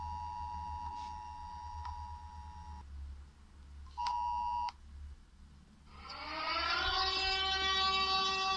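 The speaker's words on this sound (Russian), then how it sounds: "ты сиреноголовый Ваня!" A pair of steady electronic tones, each sustained and then cut off, is followed by the rising, wavering wail of Siren Head's siren, which swells loud and stays on in a Lego cartoon.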